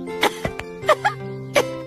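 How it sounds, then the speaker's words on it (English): A character in a children's puppet TV programme gives a handful of short, sharp coughs in quick succession, close and fairly quiet over a faint steady tonal background. "I did cough."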